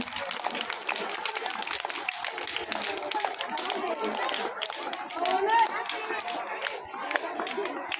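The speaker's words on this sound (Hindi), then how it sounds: "विद्यालय के सारे बच्चे जोरदार तालियां बजाते रहे" Continuous applause from a crowd of schoolchildren at a school annual function, steady clapping throughout with voices and chatter mixed in, heard from a slight distance.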